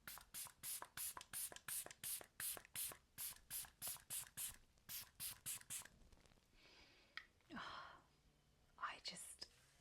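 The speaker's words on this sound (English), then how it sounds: "I will just spritz this all over my face and it just smells so good" A facial mist bottle spritzes repeatedly onto a face in a quick run of about fifteen sharp, close pumps, followed by a few softer sprays and quiet rustling after a pause.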